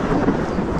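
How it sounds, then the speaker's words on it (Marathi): Loud, close rumble of thunder during heavy monsoon rain in Konkan, a dense low roll filling the whole brief moment with no voices. "अजून ढगांचा कडकडाट चालू आहे"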